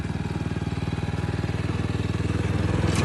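A 5 hp engine on a small branch chipper vehicle runs steadily at close range, a loud rapid chugging putter with rattly mechanical clatter.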